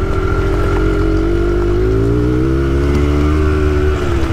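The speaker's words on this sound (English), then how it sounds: "Try second gear. It'll lug, but it's fine." A minibike engine lugs in second gear at low revs, a loud, steady, close-up putter with a slowly shifting tone and no speech.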